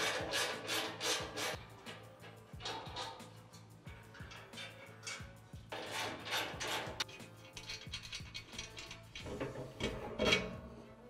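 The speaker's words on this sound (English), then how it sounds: "Now let's go ahead and pull out these 7 bolts that hold the wear bar on and remove it." Bolts come out of the UHMW plastic wear bar on a Tusk SubZero snow plow, a rhythmic grinding ratchet of a hand tool in fast repeated strokes, pausing and resuming, fairly quiet and close.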